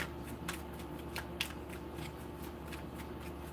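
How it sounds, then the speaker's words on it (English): Playing cards shuffled by hand during a tarot reading, a steady run of soft riffling bursts and light taps over a low constant room hum, close and fairly quiet. "Shuffling for Sag."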